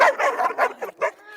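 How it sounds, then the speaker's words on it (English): A labradoodle, half Labrador and half poodle, lets out a quick run of five or six close, loud barks and yips in about a second and a half, with no talk over them. "they can have a louder, deeper bark, but he's a labradoodle"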